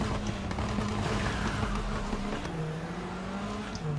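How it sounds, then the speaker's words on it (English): A race car engine in the video game Need for Speed Heat drones and revs steadily with a thin, high turbo whistle riding above it, alone without talk. "You can hear that turbo whistle."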